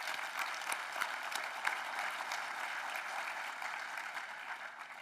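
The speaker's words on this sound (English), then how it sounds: "Please, a round of applause again." A conference audience applauds for the organizing team at a live program event, a steady, dense wash of clapping from a sizable crowd that holds even for five seconds.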